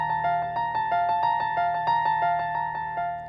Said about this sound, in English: I play the synth part right here, which sounds like this.